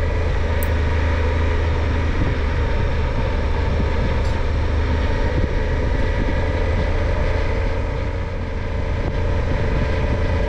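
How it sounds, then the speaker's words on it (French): Suzuki V-Strom 800 SE motorcycle engine under way on small forest roads in the Chartreuse, a steady, loud, continuous drone with road and wind rumble throughout, no talking. "Je laisse le bruit de la machine ici."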